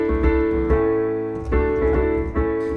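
A piano plays the intro of a song: steady sustained chords struck in a slow, regular pulse, sounding full and close with no talking over it.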